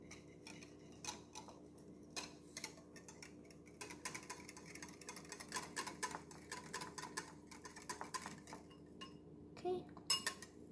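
Kolache ingredients being mixed in a bowl with a utensil, a run of quick clinking taps and scrapes against the bowl, faint and close, with soft background talk.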